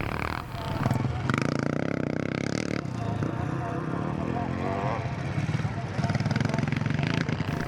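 A CZ 380 motocross bike races at a classic event at Drumlanrig Castle, its engine roaring loud and near with rising revs, while a commentator talks over it.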